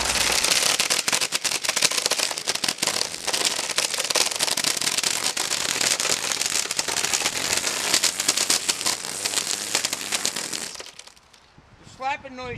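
A weed eater spins with its nylon cutting line slapping against the line cutter, producing a loud, dense, continuous crackling rattle that stops abruptly near the end, followed by quieter background.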